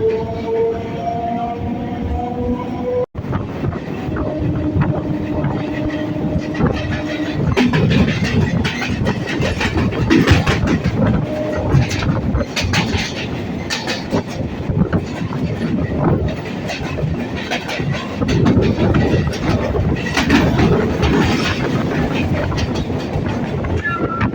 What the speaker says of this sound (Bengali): শিয়ালদাহ থেকে দু কিলোমিটার এসে আমাদের ট্রেনটা এই মুহূর্তে ছেড়ে দিল পার্ক সার্কাস স্টেশন থেকে